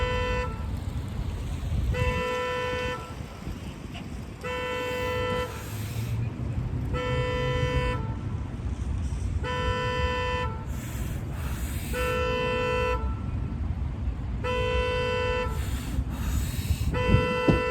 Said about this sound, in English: While that car alarm is going off in the background